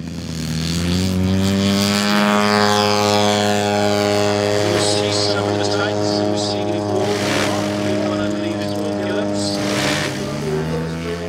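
A powered radio-controlled model aircraft towing a glider aloft, its propeller engine droning steadily and loudly with a high buzzing whine throughout, pitch shifting slightly as it passes, with speech over it.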